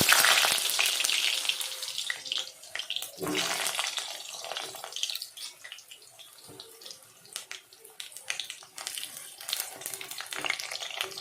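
Potatoes fried in hot oil in a wok for a chicken curry with greens, giving a steady broadband sizzle and crackle with splashy bursts that swell and fade throughout, close and fairly loud.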